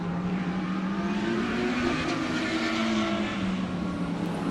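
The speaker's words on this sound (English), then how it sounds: "Such a consistent race car." A Lamborghini race car at speed on a circuit, its engine a loud, steady, droning roar with a gently shifting pitch held throughout, near and continuous with no gaps.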